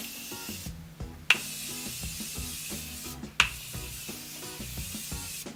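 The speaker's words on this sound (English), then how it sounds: "I'm just going to spray my cheeks where I highlighted" Two short hissing bursts of Morphe setting spray misted onto the cheeks, close and clear over steady background music, with no talking.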